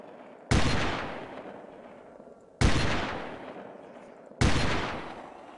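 Three sniper rifle shots in Delta Force 2, each a sharp loud crack with a long decaying echo, spaced about two seconds apart, with nothing else heard between them.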